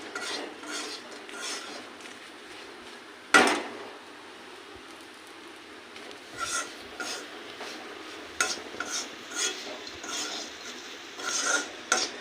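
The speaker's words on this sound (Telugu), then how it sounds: "ఒక 2 నిమిషాలు ఇట్లా కలుపుతున్నాండి, మగ్గిపోతుంది కారం అంతా, కొబ్బరి పొడి" Coconut powder and chili powder being stirred in a pan for an ivy gourd fry, with a sharp clank near the start, then intermittent scraping and rasping of a utensil against metal, close and quiet.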